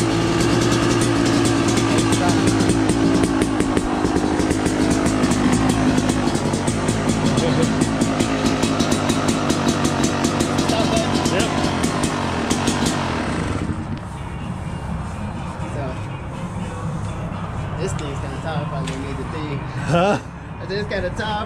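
A dirt bike engine idles with the choke on while warming up, a loud continuous puttering drone that drops noticeably partway through and continues lower, with people talking over it.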